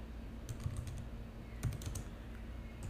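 Keystrokes on a computer keyboard as a command is typed, coming in short clusters of light, close clicks over a low steady hum, with pauses between the bursts.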